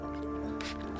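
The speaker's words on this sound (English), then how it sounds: "now I'm just going to spray it with some distilled water." A brief hiss of distilled water sprayed onto petroglyph rock, a soft misty burst late in the moment over steady low hum and outdoor background.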